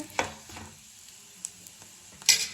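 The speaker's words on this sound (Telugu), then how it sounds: "వేగాలి బాగా" A pan sizzles softly while chutney cooks, with a low frying hiss under a few light scraping and stirring taps, close and without voices.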